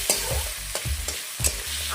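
A spoon scrapes and turns fried potatoes with salt and turmeric in a pan, a few rhythmic stirring strokes over a steady oily sizzle, close up with no talking.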